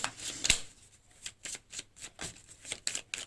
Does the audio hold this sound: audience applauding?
no